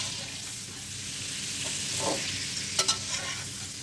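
Frozen koftas fry in hot oil with a constant close sizzle and hiss, broken by a few soft stirring scrapes and clicks near the end.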